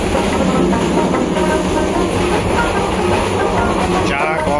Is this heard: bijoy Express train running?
yes